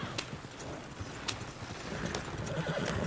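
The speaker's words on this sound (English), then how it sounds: "Oh, shit, the horses!" Horses in the video game Red Dead Redemption 2, with sharp clip-clop hoofbeats landing at irregular intervals over a low steady rumble, fairly quiet and with no talking.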